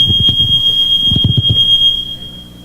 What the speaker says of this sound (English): someone inadvertently tripping the alarm on our exit door